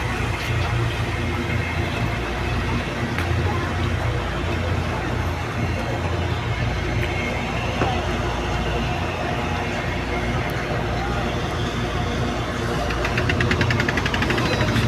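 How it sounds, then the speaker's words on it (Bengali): A large trawler's diesel engine at Mirganj ferry ghat in Barisal makes a steady, loud low throb with knocking pulses, running continuously under crowd babble and nearby voices. "এই যে বড় যে ট্রলার আসতেছে"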